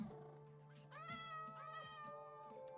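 Minecraft cats give a few quiet, drawn-out meows one after another, faint and clear over a low steady hum.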